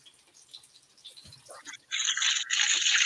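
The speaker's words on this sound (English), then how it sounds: "now you get a little too much bubbling going on, and so I'm gonna turn the heat down" A pot of liquid bubbling on a stovetop while cooking a Hanukkah dish, soft and sparse at first, then swelling into a loud, steady hiss of boiling that continues to the end with no one talking.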